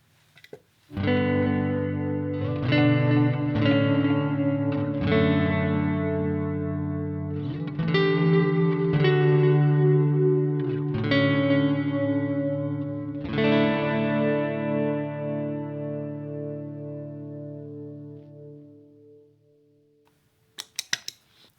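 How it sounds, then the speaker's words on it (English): A squeaky clean electric guitar tone from a pedalboard rings out in a few spaced strummed chords that sustain and slowly fade, bright and shimmering, heard alone without talk. "Here's a squeaky clean on this board."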